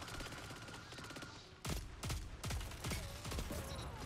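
Rapid bursts of exotic pulse rifle gunfire in Destiny 2 crack out in quick succession, loud and punchy, over a busy background of game sounds.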